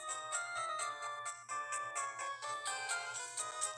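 Ringtone from a Pokemon Blazed Glazed game, a repeating bright electronic chime pattern over a soft low hum, faint and steady with no talk.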